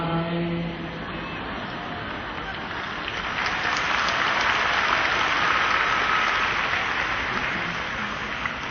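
A church congregation bursts into sustained applause after an Easter sermon, a dense, even wash of clapping that swells in the middle and carries on steadily, with some faint voices underneath.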